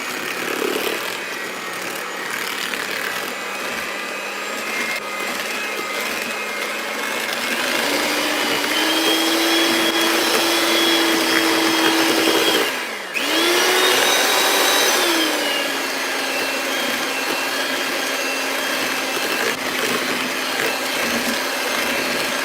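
Electric hand mixer beating eggs into chocolate chip cookie batter, a steady loud whirring drone that shifts pitch midway with a brief dip near the middle, heard alone without talk.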